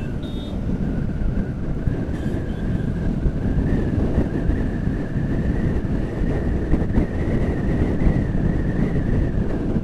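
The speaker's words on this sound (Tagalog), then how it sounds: "Sarap ng hangin dito, presko." Continuous wind roars across the microphone outdoors, a dense low rumble with a faint steady tone running beneath it throughout.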